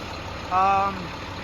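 A truck engine idles after an engine swap, a low steady rumble with a brief louder tonal swell in the middle of the short stretch.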